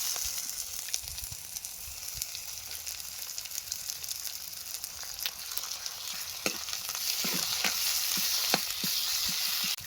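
Ginger and garlic fry in a pan with a steady, close sizzle and crackle, with a few sharper pops from stirring near the end.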